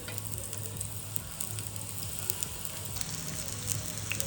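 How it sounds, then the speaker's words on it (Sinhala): Salt frying in hot oil until golden, a steady dense sizzle with a constant crackling hiss throughout, close and fairly loud, with a low hum underneath and no voices. "තෙල් එක රත් වුණාට පස්සේ ලුණු ටික දාලා අපි මේ විදිහට ලුණු ටික හොඳට රන්වන් පාට වෙනකම් බැඳ ගන්න ඕනේ"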